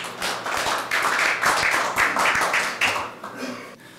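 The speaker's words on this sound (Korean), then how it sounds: "박수로 환영해 주시기 바랍니다" A crowd at a policy forum applauding steadily for several seconds, a dense, continuous patter of many hands clapping that tapers off near the end.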